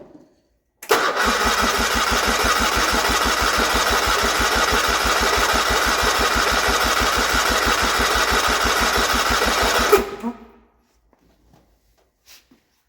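An old small engine of a 1980 John Deere 317 garden tractor cranks, catches and runs with a steady rapid chugging for about nine seconds, then cuts off and falls silent.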